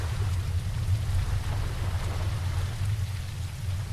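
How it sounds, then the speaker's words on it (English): Steady rainfall in The Lightkeeper video game, a constant dense patter with a low rumbling undertone, even and unbroken throughout with no talking. "It's raining, okay."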